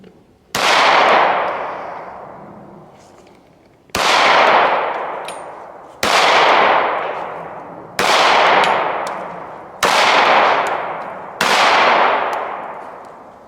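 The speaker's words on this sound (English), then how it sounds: "I started shooting low there." Six loud .45 pistol shots from a Dan Wesson ECP ring out one at a time at a slow, deliberate pace, each a sharp close crack followed by a long fading echo.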